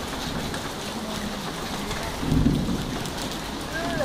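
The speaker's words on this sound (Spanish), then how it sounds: "Llovió y granizó." Steady rain and hail pour down in a dense, hissing wash, with a brief louder swell partway through.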